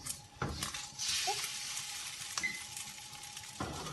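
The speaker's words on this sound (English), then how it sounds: "cook that egg as if it's an omelette" Beaten egg frying in a large pan for fried rice, a steady close sizzle with a few scraping stirs and light clinks of a utensil against the pan, no talk.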